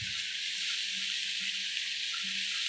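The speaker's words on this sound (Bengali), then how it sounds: "সবজিগুলো খুব ভালোভাবে ভাজা হয়ে গেছে, এবার আমি এখানে একটু রাঁধুনি বাটা আর আদা বাটাটা দিয়ে দেব" Vegetables fry in a pan with a steady, close hiss of sizzling oil that holds constant throughout, no voices over it.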